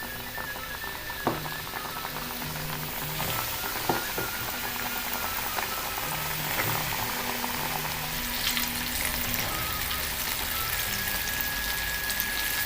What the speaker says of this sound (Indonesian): kalau udah seperti ini kita goreng di minyak panas ya